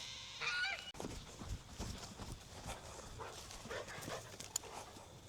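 A Great Pyrenees puppy plays on a farm, with scuffling, light thumps and quick movement noises coming in scattered bursts, fairly close and quiet, over faint outdoor background.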